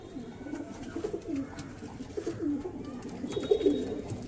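Pet pigeons coo repeatedly at close range in an owner's loft, soft rolling throaty calls recurring every second or so over faint background noise.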